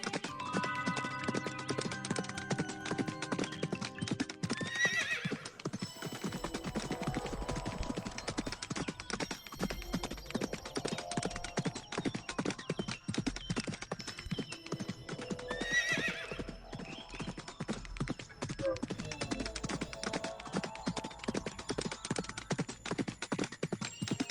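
Cartoon horse hooves clip-clop steadily as a golden horse carries a prince and his wife into a village, with repeated neighs and whinnies rising over a full, busy musical backdrop throughout.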